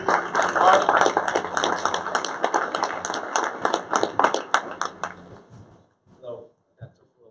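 An audience claps after a housing authority presentation, a thin scattering of hands with talk mixed in, tapering off into sparse voices.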